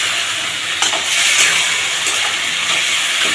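A paste of ginger, garlic, tomato, chilli and turmeric sizzles as it is sautéed in a hot pan, giving a loud, steady hiss with a few brief scraping bursts from stirring and no voices.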